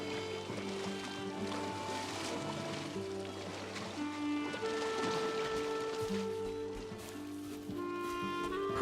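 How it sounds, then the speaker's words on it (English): Steady rain ambience plays under a Valheim game stream, mixed with layered background game music and tones throughout. "my rain sound, it's like putting a blanket over my cage"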